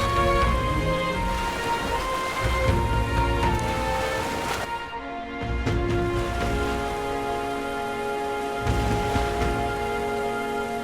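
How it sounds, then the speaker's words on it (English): Steady rain pours across a stretch of Metaphor: ReFantazio, a continuous wash of droplets that stays loud and even throughout, layered over a sustained musical score with a brief dip near the middle. "This bloody rain."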